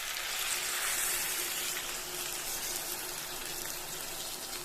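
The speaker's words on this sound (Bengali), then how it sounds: "এখন আমি জল অ্যাড করছি।" Water pours steadily into a pot of fried chicken for a Bengali chicken kadai curry, a continuous close splashing gush with no talking.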